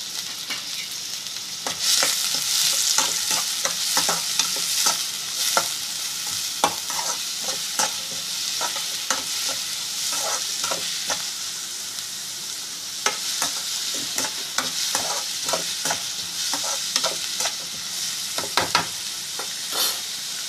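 Large onions and two green chillies sizzle in oil for a quick snack, a loud, steady frying hiss punctuated by frequent sharp scrapes and clacks of a stirring spatula, close up and without talk.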